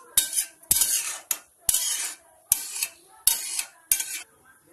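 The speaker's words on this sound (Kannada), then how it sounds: "ಚೆನ್ನಾಗಿ ಮಿಕ್ಸ್ ಮಾಡಿ" A ladle scrapes and clanks around the inside of a pressure cooker pot holding fenugreek seed pongal with rice, in six or seven rhythmic stirring strokes, close and fairly loud with short gaps.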